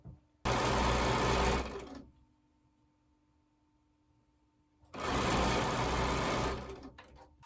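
A sewing machine stitches pre-cut quilt pieces together in two loud, steady whirring runs of about one and a half seconds each, with a near-silent gap between them.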